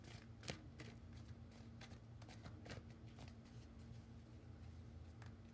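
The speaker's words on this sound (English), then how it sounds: "Just shuffling a little bit for you." Tarot cards being shuffled close up, soft repeated riffling and slapping bursts at an irregular rhythm, quiet and alone with no talking.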